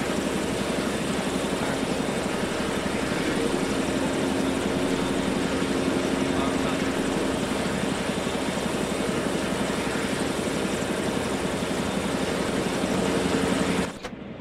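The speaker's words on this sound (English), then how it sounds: "Okay, if you get in the helo now, we'll get you back to base." Helicopter in a military combat video game, a steady loud rotor and engine drone running continuously for about fourteen seconds before cutting off abruptly.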